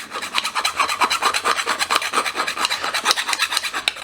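A fine-tooth rat-tail file rasps burrs off the cut edge of a beer-bottle oil can, quick repeated strokes scraping close and steady with no talk.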